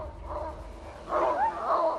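A dog voices a couple of close, whiny barks and yips, a short one followed by a longer run, with a low background hum.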